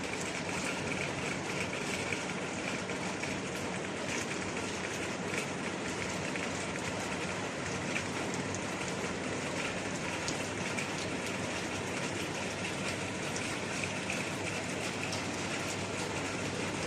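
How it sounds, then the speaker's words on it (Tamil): Steady, dense rainfall pours over a green, leafy area in Brunei, a constant close hiss of drops on surfaces that continues without letting up and with no voices. "மழை பெய்யுது பாருங்க."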